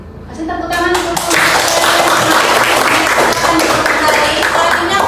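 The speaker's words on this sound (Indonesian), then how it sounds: "Kasih tepuk tangan untuk" A room of people gives a group a burst of applause, dense, loud clapping building within a second and holding steady, with a voice speaking at the start.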